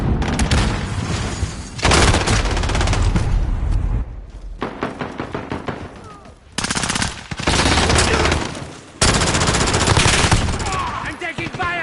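Video game gunfire in Call of Duty: loud, sustained automatic bursts with heavy booming shots, broken by short pauses, dense and close throughout.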